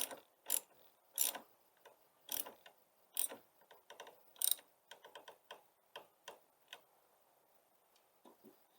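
Battery terminal nuts on a Mazda CX-9 being tightened with a ratchet, a close run of sharp clicking ticks in irregular bursts that grow sparser toward the end, with no talk.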